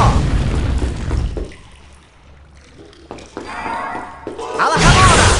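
A Depulso spell in the Harry Potter and the Prisoner of Azkaban game lands as a loud booming thump, then a quieter stretch before another heavy crash-like burst at the end, with game sounds around it.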